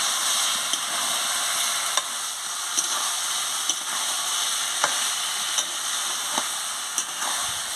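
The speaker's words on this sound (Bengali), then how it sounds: "পরিমাণ মতন মিষ্টি দিয়ে দিচ্ছি, দিয়ে ভালো করে কষিয়ে নিচ্ছি" A curry of papaya, pointed gourd and soybean chunks, seasoned with salt and sugar, sizzles steadily in the pan, while a spatula taps and scrapes at a regular rhythm of roughly one stroke a second.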